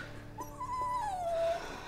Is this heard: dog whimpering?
yes